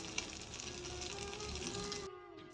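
Small prawn fritters fry in hot oil over a high flame, giving a steady broadband sizzle that holds for about two seconds before cutting away to a quieter, thinner crackle.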